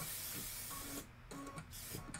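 Spray bottle misting quilt fabric pieces, a steady broadband hiss running about a second before breaking off, then a second, shorter burst of spraying close by, with no talk.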